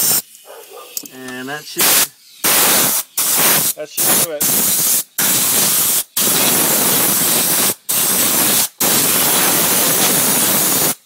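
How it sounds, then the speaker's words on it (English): Compressed air blasts water off the heater core of a 1966 Mustang coupe in long, loud, hissing bursts separated by short pauses, with someone speaking briefly near the start. "Give it a bunch of air."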